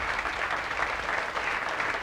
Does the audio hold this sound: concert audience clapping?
yes